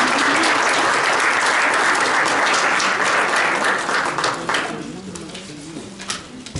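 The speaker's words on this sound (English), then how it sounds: "Let's give all of our guests a big round of applause." A club meeting audience applauds its guests with dense, sustained clapping that gradually thins and quiets over the final seconds.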